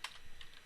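Keys tapped on a computer keyboard while configuring network switches, a few quick faint clicks close by with no talking.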